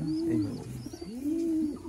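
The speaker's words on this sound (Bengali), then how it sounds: "দেখছেন এটা চকলেট কালারের পায়রাটা" A chocolate-coloured Murshidabadi sarak bazi pigeon coos close by, giving two soft, low, rolling calls.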